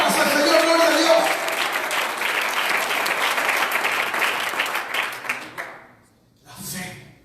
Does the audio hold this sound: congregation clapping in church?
yes